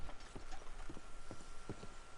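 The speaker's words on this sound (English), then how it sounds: "Load Anders onto the back of your horse there, and we'll take him to Sheriff Gray" Horse hooves clip-clop at a walking pace in a video game, a quiet run of evenly spaced hoofbeats with no voices.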